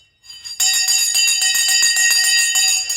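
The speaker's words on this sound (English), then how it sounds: "The bell has gone." A loud electric bell rings continuously, close and steady, with a bright metallic tone and a fast rattling pulse. It runs for a few seconds with no voices over it.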